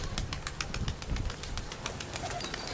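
Pigeons, recently moulted, cooing and calling nearby in a loft or yard, with soft repeated calls and a rustle of movement under outdoor background noise.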